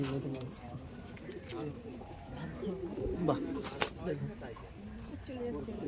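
Pet pigeons being released from a home loft coo softly beneath a man's speech, with a brief flutter of wings near the middle.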